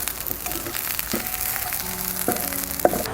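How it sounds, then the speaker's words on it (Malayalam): Dried red chillies and garlic fry in a pan for a ginger chutney, a steady close sizzle with faint crackles and one small clatter. "ബ്രൗൺ കളറാകുന്നവരെ നമുക്കൊന്ന് ഫ്രൈ ചെയ്യാം."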